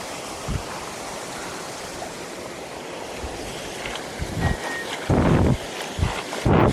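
Flowing river water rushes in a steady broadband wash near a mountain trail on Mt. Talamitam, with wind buffeting the microphone and a few thumps of handling noise.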